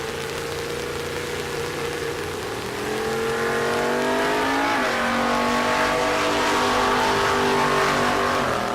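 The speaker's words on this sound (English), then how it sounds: "Robbins, the 2013 model Camaro." A 2013 Camaro drag racing in the right lane at Rocky Mountain Race Week launches hard, its engine roaring loud and close and rising steadily in pitch as it accelerates down the strip, with no talk over it.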